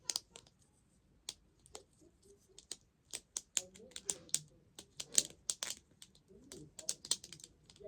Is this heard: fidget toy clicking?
yes